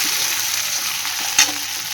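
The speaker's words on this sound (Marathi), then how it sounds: "आणि या टमाटरला छानपैकी असं भाजून घेऊयात स्लो गॅसवर" Tomato frying in a pan over a low gas flame, a steady, close hiss of sizzling with a brief louder crackle partway through, no voices.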